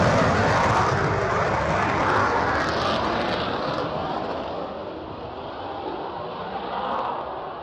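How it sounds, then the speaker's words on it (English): A Hawk fighter jet taxies down a runway and takes off, its broad roaring jet engine loud and sustained and slowly fading as it pulls away, heard from outdoors near the airfield. "a Hawk fighter jet taxied down the runway and then took off"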